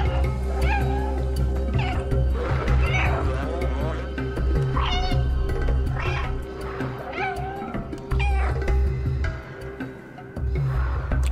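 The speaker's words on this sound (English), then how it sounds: "I'll meow at it." The cat in the video game Stray meows repeatedly, with a string of close, loud, drawn-out cries spaced a second or two apart over a low background hum.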